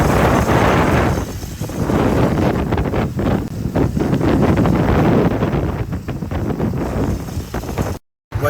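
Heavy wind buffets the microphone while riding a motorcycle along Copacabana, a steady loud roar with gusty flutters throughout and a brief dropout near the end, no talking heard.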